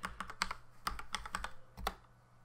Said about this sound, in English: I type su and I type a hyphen and I'll enter my password.